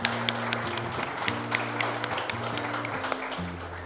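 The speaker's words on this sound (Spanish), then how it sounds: "Un aplauso a mi tío." A parish audience applauds a monsignor, brisk clapping heard over a sustained low musical hum or keyboard tones that shift in pitch, moderately loud and continuous for a few seconds.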